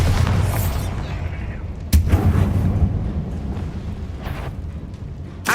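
Confringo and Bombarda spells blast in Hogwarts Legacy, with a few deep explosive booms and a sharp crack near two seconds over a rumbling game soundscape.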